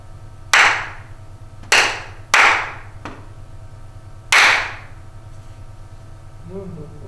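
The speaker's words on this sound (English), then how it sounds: "I'll clap it three times for you, all right?" A teacher claps her hands in a second-grade classroom, sounding four sharp, separate claps at an uneven pace with brief pauses between them. Each clap is close and loud and rings briefly in the room over a low steady hum.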